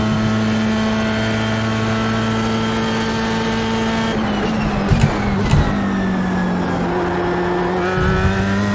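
A Formula 3 race car at the Long Beach street circuit in iRacing, its engine droning in a loud steady tone, then shifting and climbing again in pitch as it accelerates, with a few short clicks and bumps.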